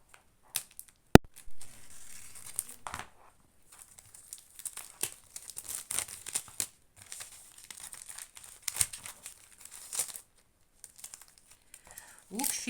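Packaging of a painting-studio craft kit is opened by hand, giving quiet, intermittent bursts of crinkling and light tearing, with soft talk in between.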